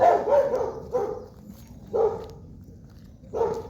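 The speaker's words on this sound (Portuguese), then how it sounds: "Aqui tem bastante cachorro, tem que tomar muito cuidado." Several dogs bark on a foggy island outside Porto Alegre, Brazil: four separate bursts of moderately loud barking spaced about a second apart, with quieter ambient noise in the gaps.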